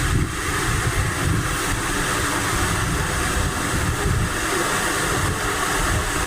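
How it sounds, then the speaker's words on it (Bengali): A small decorative fountain in a park runs steadily, a dense continuous splashing and hiss of falling water, fairly near and even throughout, with a low rumbling undertone. "এই যে কিউট একটা ঝর্ণা"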